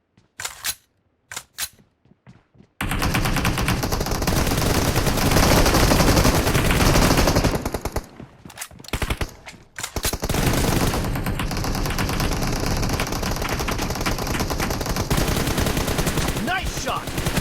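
Automatic M416 rifle fire in PUBG Mobile comes in a few sharp early shots, then long sustained bursts of rapid gunfire, loud and close, with a short break midway before the firing resumes.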